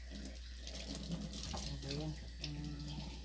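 A kitchen faucet runs steadily while a coffee cup is washed, a continuous close splashing hiss with a person speaking briefly over it.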